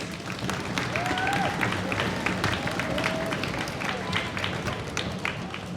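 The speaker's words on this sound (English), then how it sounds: "Hey kids, can you give your parents a round of applause, please?" Kids at a string music concert applaud their parents, moderate crowd clapping mixed with chatter and a few raised voices.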